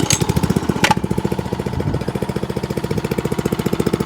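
Masport Olympic lawn mower with a replaced clutch, its small engine idling close by in a steady, fast, loud chugging rhythm, with a couple of brief sharper clanks early on.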